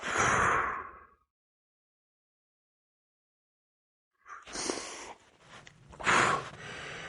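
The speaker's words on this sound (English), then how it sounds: "Let's take one conscious breath in together." A conscious breath taken during a low-impact workout cool-down: one long exhale that fades into several seconds of silence, then another audible breath with a sharp rush of air, close and alone.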